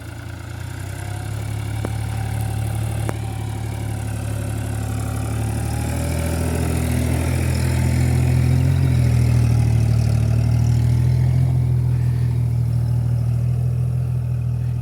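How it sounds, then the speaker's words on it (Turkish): A New Holland TT50 tractor engine idling close by, a loud steady low diesel rumble that swells slightly midway and holds, with no talking. "Bu görmüş olduğunuz traktörü yeni aldık."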